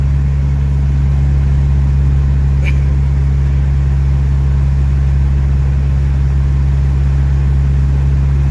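A 1986 Jeep Comanche engine runs steadily after starting, a loud, constant low idle drone that holds through the whole stretch with no talking.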